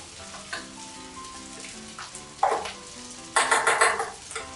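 Garlic fried rice with mushrooms and green onion being stir-fried in a pan, soft sizzling with scraping stirs that swell into louder bursts of crackling frying near the end, close up and without talk.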